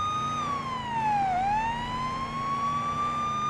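A police siren wails steadily in the game Police Simulator: Patrol Officers, its pitch dipping and then rising again, loud and continuous with a low engine rumble underneath.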